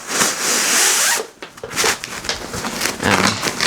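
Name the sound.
Velcro hip belt tab fastening on camera bag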